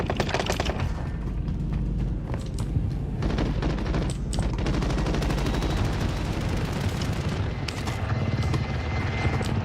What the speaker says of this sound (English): Enemy chopper incoming.